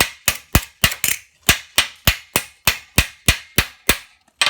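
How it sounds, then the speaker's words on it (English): A blacksmith's hammer pounds steel in repoussé work, landing sharp, ringing blows in a steady rhythm of about three per second, close and loud with brief silences between strikes. "Puts a little bit of heat in the steel by pounding it everywhere."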